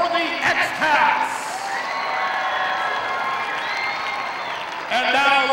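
Crowd at a 2010 FIRST Finger Lakes Regional robotics competition championship cheering, whooping and applauding, a sustained roar with shouts and whistles rising and falling, while an announcer speaks over it.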